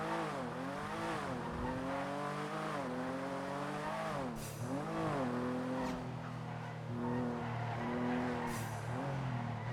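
A fast car in the NoPixel 4.0 roleplay video game revs up and down in sweeping engine pitch swells, with tire squeals and skids, loud and continuous throughout.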